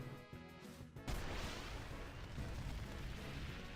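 A fire spell attack in the game Final Fantasy X lands as a sudden booming blast that cuts off a short musical passage, then gives way to a sustained roaring crackle, dense and steady.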